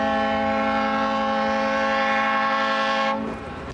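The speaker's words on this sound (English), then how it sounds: "The horn blast of the Creole Queen, one of the spunkiest riverboats on the Mississippi River." Horn of the Creole Queen, a Mississippi River riverboat, sounds one long, loud, steady blast that holds for about three seconds and then cuts off, leaving a brief fading echo. No one speaks.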